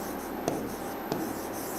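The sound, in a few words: writing the corrected sentence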